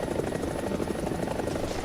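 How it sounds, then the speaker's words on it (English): A Mi-28NM attack helicopter in the video game War Thunder drones with continuous rotor thumping and engine buzz, loud and steady throughout with no voices. "it's just another really good Soviet helicopter"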